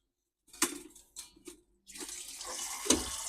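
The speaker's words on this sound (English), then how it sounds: "So you can see the water coming out now" Water bursts in short spurts, then flows steadily out of an opened bleed valve while draining an NTI boiler, a close splashing hiss into a container.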